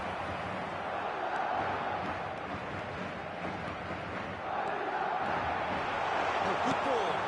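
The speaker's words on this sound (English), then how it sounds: "Certainly gave this crowd something to really cheer about." Stadium crowd in an eFootball PES match, a dense, steady roar of cheering fans spread wide and distant, swelling slightly toward the end with no commentary over it.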